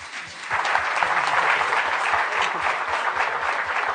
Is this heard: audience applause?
yes